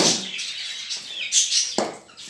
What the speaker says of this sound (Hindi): अब एक डेमो दिखाते हैं आपको कबूतरों को डालकर।